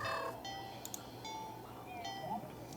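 A cat in a video game meows softly and repeatedly, with short cries over a low background and faint talk.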